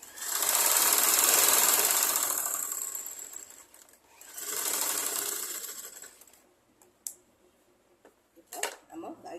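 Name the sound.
sewing machine stitching a blouse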